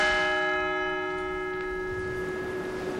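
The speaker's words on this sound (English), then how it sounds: "the bell will ring for each of the 40 passengers who died, the heroes of Flight 93" A church bell tolls for the passengers of Flight 93 at Shanksville, a single loud strike ringing out and slowly decaying with a long sustained hum, no voices over it.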